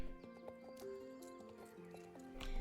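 Horse hooves clip-clop in the video game Star Stable Online during a race, a string of crisp hoof beats over steady tonal game music, with a faint voice now and then.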